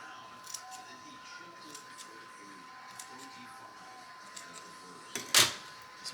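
Scissors snip through calathea plant roots in one short, sharp cut near the end, close and fairly loud against a quiet room background.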